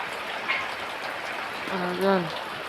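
Heavy rain pours down as a steady, dense broadband hiss throughout, with a voice briefly speaking near the end.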